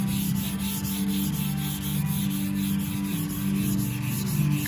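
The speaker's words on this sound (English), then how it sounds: "It's really hard to block sand one-handed." A sanding block rubs back and forth over the bodywork of a 1970 VW bay window bus, making a continuous, close, rhythmic scratchy rasp of quick repeated strokes with no speech.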